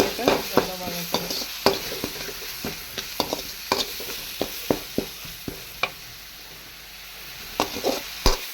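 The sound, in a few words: sautéing ginger garlic for chicken gravy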